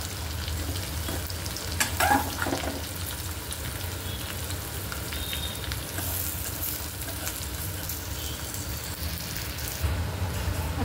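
Sliced bitter gourd (karela) roasts crisp in a pan over a high gas flame, giving a steady, close, dense sizzle with occasional sharp crackles and stirring clicks throughout.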